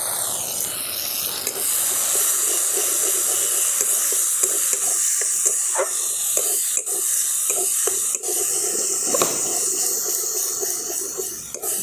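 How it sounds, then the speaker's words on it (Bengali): Ground spice paste hits hot oil already holding fried tempering for a green pea curry and sizzles loudly and continuously, with scraping stir strokes and small pops running through the hiss. "এরপর আমি দিয়ে দিচ্ছি বেটে রাখা মশলাটা।"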